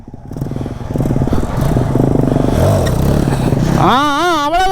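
A motorcycle during wheelie practice on a track, its engine rumbling loud and close before revving sharply upward with rising, wavering pitch near the end.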